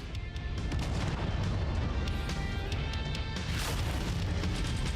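Loud, dense booming weapon fire and missile impacts from the Mechwarrior 5 video game, with repeated sharp blasts over a continuous rumbling roar throughout.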